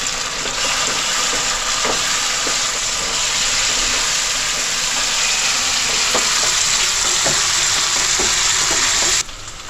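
Onion and tomatoes frying in a pan for mutton sukka, a steady, loud sizzle with faint stirring clicks underneath that continues evenly throughout.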